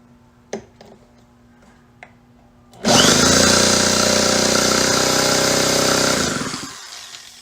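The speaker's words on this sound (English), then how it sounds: "I'm going to take it, spin it with the drill, and see what comes out of the spark plug hole." A few faint clicks and taps, then a drill abruptly whirs up loud, spinning the small engine of a STIHL BG 72 gas blower steadily for several seconds before winding down.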